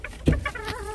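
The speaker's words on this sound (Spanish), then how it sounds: "Ahí está el gallito azteca con su novia." Aztec rooster and hen clucking close by, a few short fowl calls with one louder burst near the start, alone without talk.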